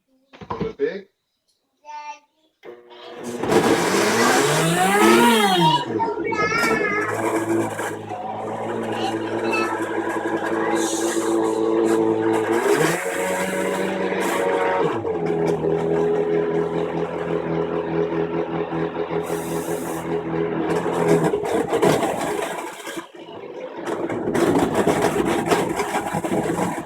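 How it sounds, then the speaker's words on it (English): A Blendtec blender runs with potatoes inside, a loud whirring motor that ramps up, steadies into a sustained mechanical hum, then cuts off near the end, with brief clatter before it starts. "I'm going to use my Blendtec blender"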